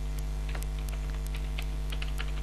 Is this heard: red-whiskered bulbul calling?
no